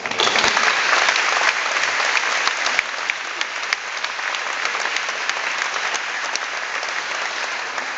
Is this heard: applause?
yes